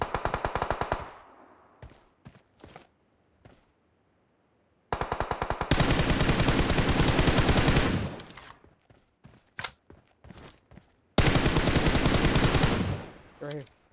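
Bursts of rapid automatic gunfire in the battle royale game PUBG Mobile during an All-Star Face Off match, loud volleys separated by quiet gaps and a few isolated single shots.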